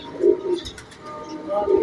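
Soft, low pigeon cooing comes in a few rounded bursts, with a faint murmur of voices in the background.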